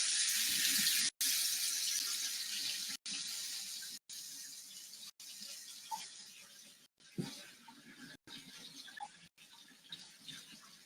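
Room-temperature water streams steadily from a container onto a kitchen scale, a continuous soft hiss that runs for several seconds, broken by a few abrupt cuts.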